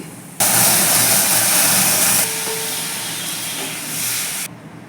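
Dal is poured into a hot tempering of black mustard seeds, setting off a sudden loud burst of hissing sizzle that stays strong, then eases to a lower bubbling hiss before cutting off.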